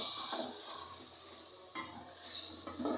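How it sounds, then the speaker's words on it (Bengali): Beef being stir-fried in a pot for biryani, giving a soft, steady sizzle with occasional scraping and stirring clinks from a spoon against the pot, close and fairly quiet with no talking. "তো আমি এখন মাংসটা একটু কষাচ্ছি।"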